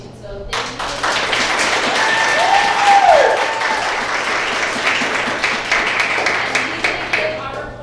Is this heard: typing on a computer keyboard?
no